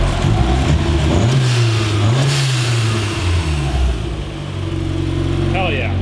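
Turbocharged Mazda Miata engine idling with new intercooler piping, a steady close rumble that swells slightly in pitch once or twice, heard beneath people talking.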